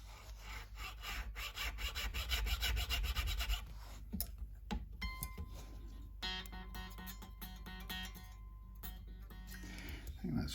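Metal nut files rasp back and forth through the nut slots of a Telecaster-style electric guitar during a refret and setup, giving close, steady scraping strokes with short pauses and some ringing string tones in between.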